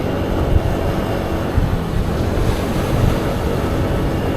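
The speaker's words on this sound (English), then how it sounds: "Just getting slight mist as the waves hit these rocks." Steady roaring surf from ocean waves breaking against coastal rocks between Da Nang and Hoi An, a dense continuous wash close by with wind buffeting the microphone and no voices.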